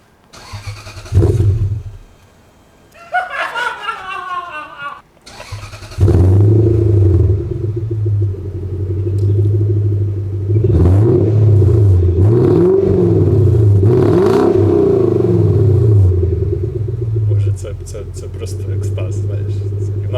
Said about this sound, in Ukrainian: ми зараз е, запустимо двигун